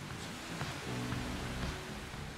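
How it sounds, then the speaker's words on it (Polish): Rain falls outdoors at a bus depot in the Bus Simulator 21 video game, a soft even hiss with a low hum underneath, faint and steady. "Fajnie, że deszcz pada na dworzu i autobusy też były mokre przez chwilę"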